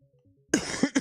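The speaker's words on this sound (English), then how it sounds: "Sorry about the coughing." During a live radio sports commentary broadcast, a couple of sharp, close coughs follow a faint background hum, brief and abrupt.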